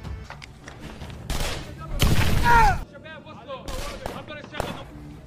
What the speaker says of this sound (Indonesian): Pemimpin pasukan sniper yang bernama Frank bertindak brutal dengan menembaki orang penting tersebut